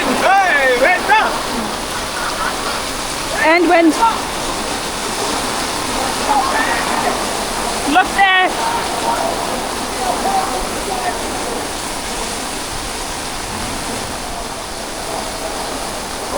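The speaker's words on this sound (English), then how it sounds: "The rain is too strong for the umbrella." Heavy rain pours at Athirappilly Waterfalls in Kerala, a steady loud broadband wash of water filling the whole clip, with voices talking and exclaiming over it at moments.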